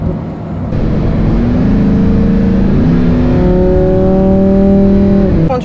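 Lamborghini Huracan engine revving loudly up close, a sustained high-pitched wail that climbs steadily in pitch over several seconds and then drops off abruptly at the end.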